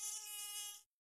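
A cartoon mosquito buzzes in a single loud, close, high-pitched whine that holds steady for under a second and then stops abruptly, leaving silence.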